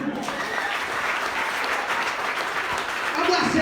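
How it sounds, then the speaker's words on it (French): Church congregation applauding during a lively worship service, a steady, dense wash of clapping that holds throughout and swells slightly near the end, mixed with voices. "Applaudis mon Dieu."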